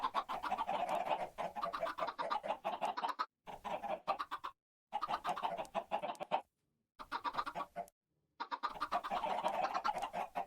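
Several video-game chickens cluck continuously in bursts, loud and close, with short silent gaps between the bursts and no talking.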